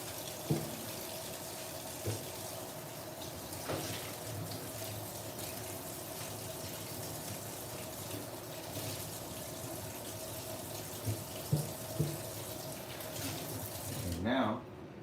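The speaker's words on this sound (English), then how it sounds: "Let me clean out the sink a little bit. Rinse it out, I should say." Tap water runs steadily into a sink as it is rinsed out, a continuous low wash with a few faint knocks and clinks scattered through it.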